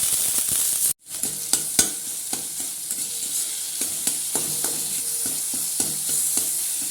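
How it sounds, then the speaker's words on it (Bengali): Papaya is stirred into onion and garlic frying in hot oil, making a steady close sizzle broken by frequent scraping clicks of the spoon against the pan, with a brief dropout near the start and no talking. "পেঁয়াজ আর রসুনটা ভাজা হয়ে গেছে লাল করে, এর মধ্যে দিয়ে দেবো পেঁপে"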